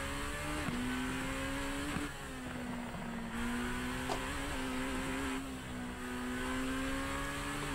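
A Super Formula race car engine in iRacing at the Sugo circuit sings at a steady high pitch, dipping and climbing again with each gear change as the car pulls hard through a lap.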